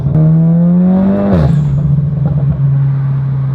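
A 450 BHP front-wheel-drive Cupra with a hybrid turbo accelerates hard, its engine note climbing loudly through the revs before a sharp drop at a gear change, then a steady powerful drone, heard close up.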